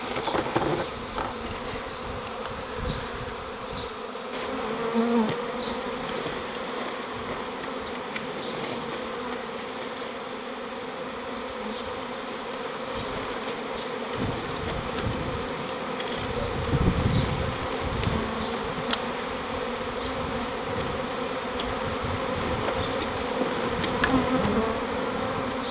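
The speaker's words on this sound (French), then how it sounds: "Il y a un beau paquet d'abeilles là, je sais pas si vous voyez bien." A large swarm of honey bees hums continuously around a hive box, a dense, steady drone that stays loud and unbroken from start to finish.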